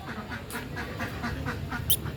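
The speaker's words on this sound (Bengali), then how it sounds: "হে, এখানে হাঁস।" Ducks at a mini zoo in Baruipur, an odd breed kept beside a small pool, give a run of short nasal quacks in an uneven rhythm over steady outdoor background noise.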